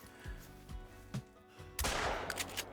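A hunting rifle fired at a ptarmigan in theHunter video game: one sharp report after quiet low ambience, followed by a brief broad rumbling tail.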